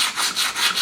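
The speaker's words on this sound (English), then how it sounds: "Also just gonna polish up the jaws a little bit here on the front" Polishing the front jaws of a movable welding vise gives a close, loud rhythmic rubbing, with back-and-forth abrasive strokes repeating about every third of a second.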